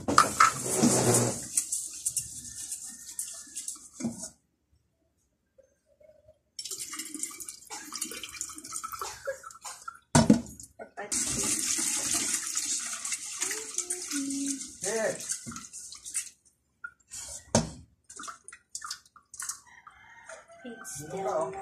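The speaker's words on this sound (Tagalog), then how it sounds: "Una ay huhugasan natin ang 1 cup na malagkit sa tubig." One cup of glutinous rice is washed in water, giving bursts of splashing and swishing with gaps of quiet between them, close by, with someone speaking briefly.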